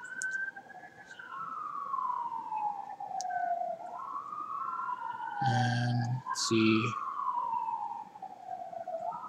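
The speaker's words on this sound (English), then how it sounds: "Sirens outside my house in case it's possible that you guys can't hear that somehow." A wailing emergency siren outside a house rises and falls steadily in the distance, sweeping up and down for several cycles, with a brief spoken remark partway through.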